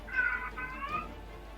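A cat gives two short, fairly quiet meows in quick succession, the second slightly softer, over a faint background hum.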